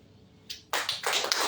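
At a Rotary club charter presentation and induction ceremony, a few light taps give way to a sudden burst of audience applause that swells and carries on loudly.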